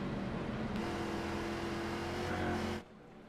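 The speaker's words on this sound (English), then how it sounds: "These cars still sound mean" Race car engines drone steadily at low speed under caution, a loud, continuous hum with a slight rise in pitch before dropping off sharply near the end.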